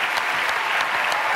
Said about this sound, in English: let's give her one big round of applause as she leaves